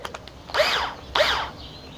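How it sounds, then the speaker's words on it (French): A cordless drill with a well-charged battery spins a socket extension on an air compressor, giving two short whirring bursts that rise and fall in pitch, each about a third of a second long, close and fairly loud. "on met tout ça sur une perceuse avec une batterie qui est assez chargée"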